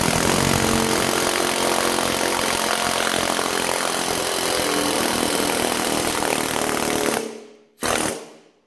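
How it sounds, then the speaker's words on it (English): An air chisel fitted with a bolt welded to its tip hammers out a roll pin in a loud, continuous rapid-fire rattle that cuts off abruptly, followed by one short final burst. "we have our bolt welded on to the end of the chisel and we use it to drift out the roll pin."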